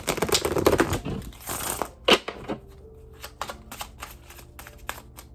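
Tarot cards are shuffled by hand in a quick burst of riffling and flicking, then a few sparse, soft taps and slides as a card is drawn, all close and quiet with no talking.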